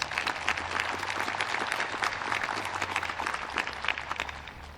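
An audience at a high school graduation ceremony claps warmly and steadily, a dense patter of many hands sustained throughout at even volume.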